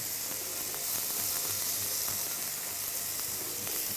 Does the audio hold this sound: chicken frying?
yes